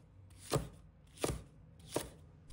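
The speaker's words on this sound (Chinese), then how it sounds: "再准备2条青椒，把它切成小块" A knife chops two green chili peppers into small pieces on a board, three separate firm thuds spaced about 0.7 seconds apart, close and crisp with quiet gaps between.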